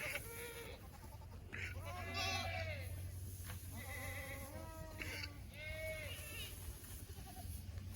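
Boer goats bleat repeatedly during winter storm chores in a mid-Missouri pasture, several wavering calls coming in turn over a steady low hum of wind or machinery.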